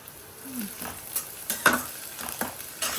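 Garlic and ginger frying in a pan, a soft sizzle under a few sharp scrapes and clinks of a spoon stirring against the metal.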